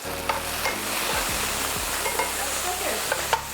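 Sweet potatoes and fresh garlic sizzle steadily in a hot pan while a utensil stirs and scrapes through them, with a few sharper knocks against the pan over the constant frying hiss.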